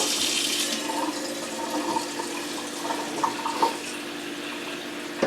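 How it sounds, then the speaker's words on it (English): Hot water runs from a kitchen tap into a pot for ramen, a steady moderate gush with faint clinks and small splashes. No one speaks over it. "So step 1, get the water. Turn it to hot."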